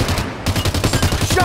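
Rapid automatic gunfire rattles in a Halo 5 Warzone match, a loud, evenly spaced burst of shots continuing through the clip alongside game effects.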